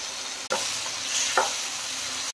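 Brinjal pieces going into a pan of frying onions and tomatoes for a dry prawn curry, giving a steady loud sizzle with a couple of brief stirring scrapes and clatters.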